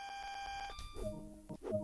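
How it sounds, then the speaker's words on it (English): AWS self-test alarm in a cab of the Great Western Express train simulator game: a steady electronic tone sounds alone, then gives way to a couple of short deeper tonal blips toward the end. "That alarm is the AWS self-test system."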